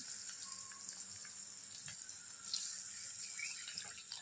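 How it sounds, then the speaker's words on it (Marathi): Half a glass of water pouring steadily into a pan of cooked onions and tomatoes with a faint sizzle, a continuous splashing stream close by. "त्याच्यात पाणी टाकूया"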